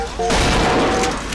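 A single loud shotgun blast from the video game Bioshock Infinite, a sustained booming burst filling the moment, with a sharp click or shot at the very end.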